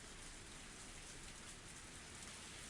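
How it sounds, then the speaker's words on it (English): Steady rain falls in the Higurashi When They Cry video game, a constant even hiss of drops on a surface, soft and unbroken throughout with no voices. "Nice little rain, weather transition."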